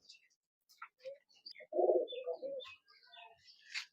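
Pigeons cooing close by, a soft murmuring coo in the middle with scattered chirps and light rustles around it, faint and intermittent against silence.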